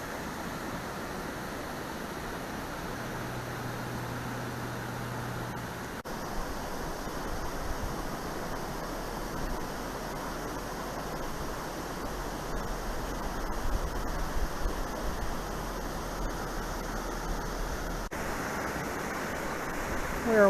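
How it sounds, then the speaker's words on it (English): Steady rushing water flows continuously along a lake trail beside a dam, a broad even wash of sound with no voices. "Love the sound of the water."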